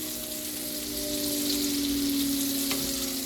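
Garlic sizzles in a pan of butter and oil for shrimp scampi: a steady, close, even frying hiss that holds for a few seconds with no voices.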